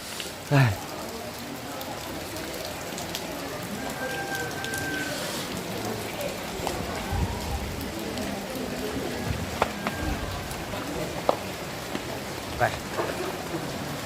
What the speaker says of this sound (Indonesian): tapi sayang hujan bah, kurang mendukung cuaca